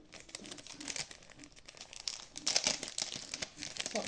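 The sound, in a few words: unwrapping crinkly packaging of a scrapbooking item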